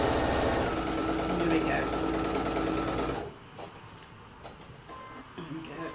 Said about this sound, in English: I'll start sewing.